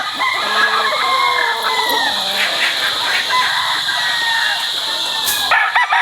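A Raptor sweater gamecock rooster crows nearby, a loud drawn-out call over background clucking and other fowl noise.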